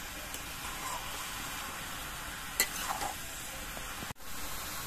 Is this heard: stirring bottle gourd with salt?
yes